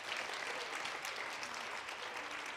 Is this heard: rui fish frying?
no